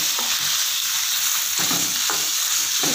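Small chicken pieces, about half a kilo, fry in hot cooking oil with a loud, steady sizzle and crackle, punctuated by a few sharper pops and stirring scrapes.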